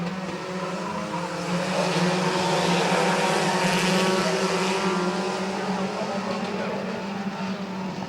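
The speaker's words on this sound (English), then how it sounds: "Clayton Oliver with a good 3-wide center move" Race cars roar continuously around the oval at Midvale Speedway, a steady droning mix of engines close by and loud, with no pauses across the stretch.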